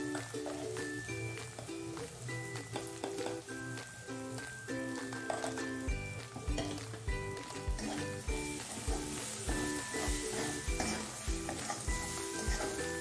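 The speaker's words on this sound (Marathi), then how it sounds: "आता हे मिश्रण आपण पुन्हा एकत्र करणार आहोत।" Batata vada potato mixture with salt being stirred and mixed in a pan, a continuous sizzling and scraping texture under background music, steady throughout.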